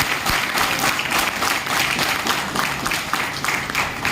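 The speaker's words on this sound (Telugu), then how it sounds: "ఒక్కసారి క్లాప్స్ కొట్టండి." Meeting audience claps together at a Nizamabad Pearlvine business meeting, a dense, steady wash of many hands lasting throughout, fairly close and loud with no talk over it.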